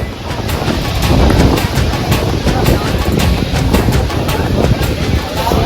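Strong wind gusting outdoors at night near Palika Gate in Delhi, a loud continuous roar buffeting the microphone with faint rhythmic tapping underneath.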